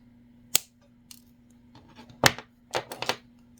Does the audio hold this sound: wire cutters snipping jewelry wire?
yes